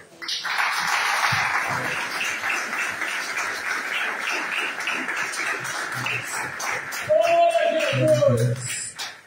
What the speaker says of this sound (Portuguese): receba o céu de Deus com as palmas para Jesus.